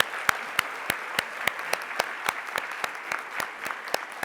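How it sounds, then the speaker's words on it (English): At a business forum closing session, an audience gives steady applause, with sharp, fairly even claps over a soft background of many hands. "let's give them a fine round of applause"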